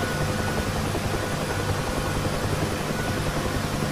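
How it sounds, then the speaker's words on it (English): Bell UH-1H Huey helicopter rotor and turbine in a flight simulator during takeoff and hover, a steady loud whirring drone with constant blade beat, unbroken and without voices. "demonstrate the initial step of a takeoff and basic hover control"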